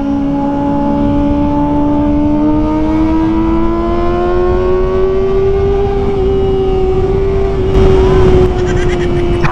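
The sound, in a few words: Kawasaki ZX25R inline-four motorcycle engine, very loud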